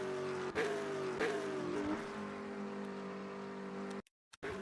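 Prototype race car in Le Mans Ultimate, its engine droning steadily at idle with a couple of short blips, then cutting out abruptly near the end, loud and close with no talk.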